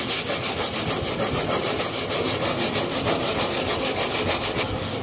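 Steady back-and-forth scraping of a sanding block over drywall compound, a quick even rhythm of rasping strokes, close and continuous with no talking.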